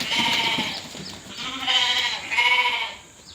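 Sheep bleat at a sheep and goat farm, giving several wavering bleats close by, one after another, with no talking.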